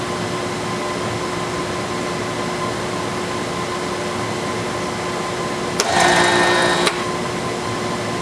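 Air conditioner with a bad contactor whose compressor tries to cycle on: a steady low electrical hum, then a sudden loud buzzing surge lasting about a second before it cuts back to the hum.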